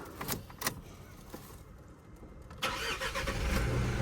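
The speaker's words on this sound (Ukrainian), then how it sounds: "Вся машинка завелась, можна їхати." A 2025 Mitsubishi L200 is started after a few key and switch clicks: the starter cranks briefly, then the engine catches and settles into a steady, close idle rumble.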